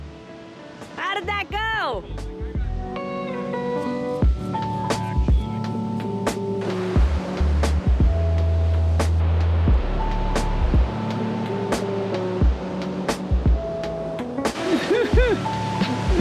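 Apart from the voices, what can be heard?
ocean waves washing ashore on a Mexican beach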